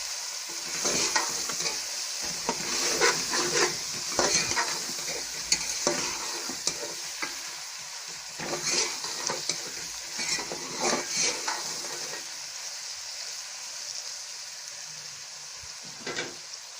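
Spice masala with red chilli and dried coriander roasts in a pan for masala tinda sabzi, hissing steadily under repeated bursts of spatula stirring and scraping against the metal.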